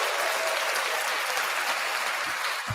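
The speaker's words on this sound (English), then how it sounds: "James, can I have a round of applause?" An audience gives a round of applause during a live studio Q&A, a steady, moderately distant wash of clapping that holds evenly for several seconds with no talk over it.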